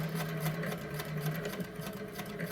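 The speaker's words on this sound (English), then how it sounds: "The other option you've got is actually to spin the fabric round, stitch a few stitches," A vintage sewing machine runs steadily as it stitches fabric for a machine cover, its continuous close hum and rapid needle rhythm holding throughout with no talking.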